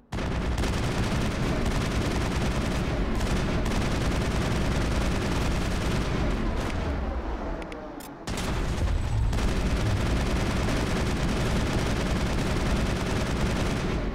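Continuous, dense gunfire and booming blasts from a shotgun battle in the video game Mass Effect, loud and sustained with a brief dip midway before the barrage resumes.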